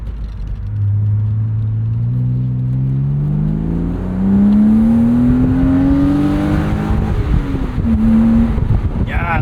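A sports car accelerates hard from near, its engine note climbing steadily in pitch through the gears with a brief shift dip, loud and alone, then settling into a higher whine near the end.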